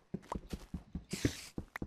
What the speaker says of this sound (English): And I hear a spider.